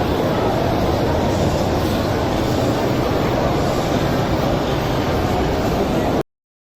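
A train rumbles along the rails in the Densha De Go train-driving game, a loud, steady low roar with faint clatter running unbroken until it cuts off abruptly.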